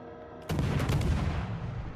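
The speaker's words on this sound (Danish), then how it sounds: "Prøv at se, jeg skudt lige nu." Warship guns firing in World of Warships on PS5: a sudden loud booming broadside bursts in after a quiet half second, then rumbles and decays over the remaining moment, with no talk.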